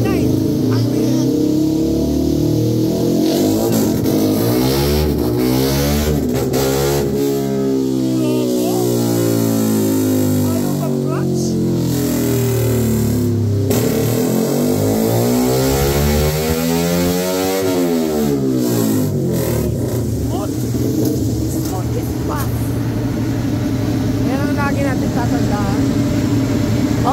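A Yamaha R15M V4 motorcycle engine with a remapped stock ECU roars on a dyno, revving up and down repeatedly in long rising and falling sweeps, very loud and close throughout.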